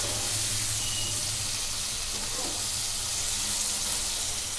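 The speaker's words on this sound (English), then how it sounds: "At this time only we have to add the" Diced onions frying in a pan with roasted fenugreek leaves for an onion curry, a steady close sizzle running throughout without pause, no talk.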